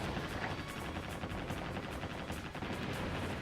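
Shipboard RAM weapons in the naval video game Warship Gunner 2 fire to intercept incoming missiles, a dense, continuous rattle of rapid distant-sounding bursts, fairly quiet throughout.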